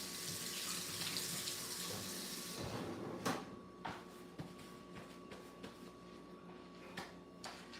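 A running kitchen tap splashes water while fruit is rinsed beneath it. The flow is steady and close at first, then gives way to scattered clatters and knocks near a sink.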